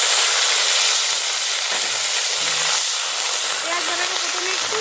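Onion paste hits hot oil with dried red chilli, bay leaf and whole garam masala for a Bengali doi katla, giving a loud, steady sizzling hiss that holds evenly throughout, close up.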